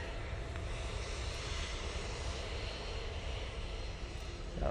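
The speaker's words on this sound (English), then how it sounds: "Ryanair just arriving." Ryanair jet arriving at Manchester Airport, a brief, steady broadband engine rush, moderately faint and even throughout, heard alone.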